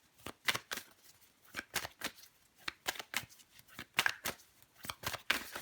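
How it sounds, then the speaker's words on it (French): Cards are shuffled and drawn for a tarot-style reading, a quick run of crisp, close snapping and flicking strokes in an irregular rhythm, with no voice. "on va encore tirer une carte ou deux pour vous"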